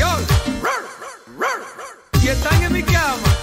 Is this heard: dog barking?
yes